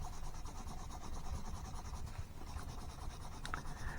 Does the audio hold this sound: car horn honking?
no